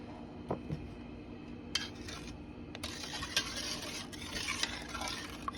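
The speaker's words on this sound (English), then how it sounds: "Cinnamon's always a challenge to get it wet and get it stirred in." Cinnamon being stirred into watermelon rind candy syrup, quiet wet stirring and light scraping in a pot with a faint bubbling sizzle, steady throughout without talk.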